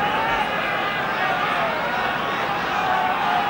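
A 1973 rugby crowd at a Barbarians versus New Zealand match applauds full-back play with a steady, dense roar of clapping and cheering that fills the whole stretch, with faint voices mixed in.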